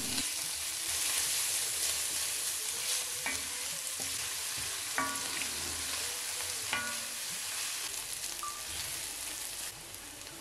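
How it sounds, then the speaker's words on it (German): Garlic, ginger and onion fry in a pan over medium heat for a potato-paprika curry, giving a steady bright sizzle with occasional stirring scrapes and clicks, close and continuous with no talk. "Zwiebel hinzufügen und weiter auf mittlerer Hitze für ca. 4 Minuten anbraten"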